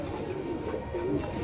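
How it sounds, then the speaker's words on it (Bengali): Male pigeons coo softly and steadily at a pigeon sale, a low, continuous murmur of calls that stays faint throughout. "কবুতরগুলো অনেক ছটফটা।"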